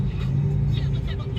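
Heavy morning road traffic in the Philippines: a close, steady low engine rumble of cars with faint hiss of tires, speech-like voices mixed in over the drone.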